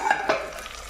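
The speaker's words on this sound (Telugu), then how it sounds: "ఇక టమాటా ముక్కలు ఎలా వేగాయో చూద్దాం." Tomato pieces fry in a pan with a close, continuous hiss, and two quick stirring scrapes come near the start.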